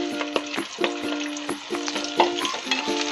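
Onions sautéing in hot oil in a pan for Chettinad chicken curry, a close sizzle punctuated by repeated clanking spoon strokes and tonal metallic rings, with no voices.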